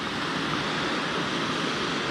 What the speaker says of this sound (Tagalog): Yan ang Pinlock Falls.